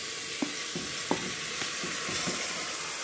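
Diced beef chuck searing in a pot, a close, constant hissing sizzle punctuated by several soft stirring scrapes and pops, with no talking.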